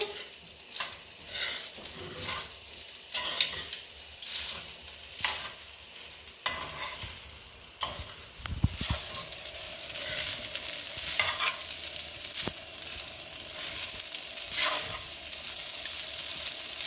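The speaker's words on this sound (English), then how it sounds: "I'm going to turn my heat up to medium to high to give it a good fry for a couple of minutes" Spicy vegetable fried rice stir-fried in a pot over medium-high heat, with steady sizzling and repeated scraping stirs of the spoon against the pot, close and continuous throughout.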